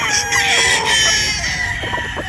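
A Yellow Legged Hatch rooster crows once up close, a loud drawn-out call with a few clucks from nearby fowl at the end.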